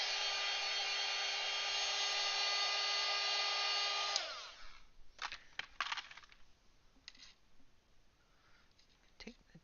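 A hair dryer blows a steady, loud whir over artwork for about four seconds, then cuts off, leaving faint handling noises and scattered light taps.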